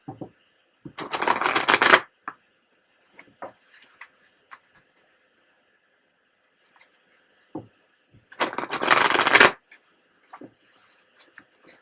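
Two bursts of tarot cards being shuffled, a brisk riffle near the start and another later, with quiet pauses and small handling noises between.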